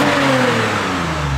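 A car engine revs hard with a deep, throaty exhaust note, loud and close, holding one sustained rising pull inside an enclosed space.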